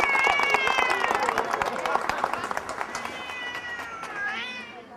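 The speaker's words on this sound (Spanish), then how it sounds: "es realmente como un pequeño leopardo y tiene algo extraordinario, la voz fantástica." Bengal cat at a cat show in Medellín meowing repeatedly in long, wavering, loud cries, close by, over a busy crowd backdrop with talk and some clapping.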